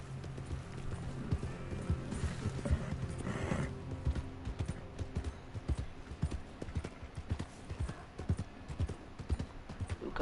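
Horse hooves plod through mud in the video game Red Dead Redemption 2, a steady run of close, dull thumps that carries on over a low in-game background hum.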